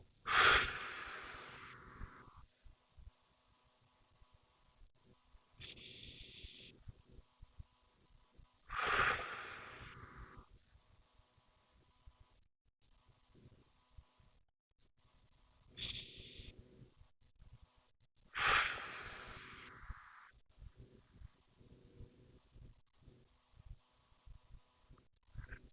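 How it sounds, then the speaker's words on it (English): Slow, deep breaths during a guided breathing exercise: a long nose inhale followed by a mouth exhale, repeated in about three close, clear cycles with quiet pauses between and no talking. "Take a big breath in with our nose."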